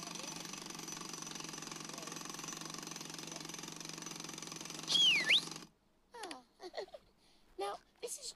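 A pneumatic drill at roadworks pounds out a loud, steady rattling hammer for about five and a half seconds before cutting off abruptly, followed by a brief squeal and scattered voices.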